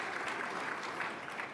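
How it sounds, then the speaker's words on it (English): A conference audience at an opening plenary breakfast bursts into brief, dense applause, a steady wash of clapping from many hands lasting under two seconds. "you can clap for that."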